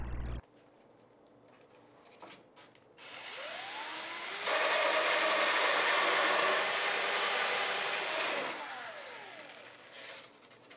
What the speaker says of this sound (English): To cut out the holes for the net pots, use a drill with a hole saw bit slightly smaller than the size of your pots.